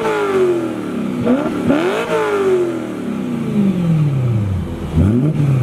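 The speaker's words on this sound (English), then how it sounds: "Okay, I need gas now after revving like crazy." BMW E90 M3 engine revving hard, the pitch climbing and dropping in repeated sweeps, loud and close, with an engine rumble underneath throughout.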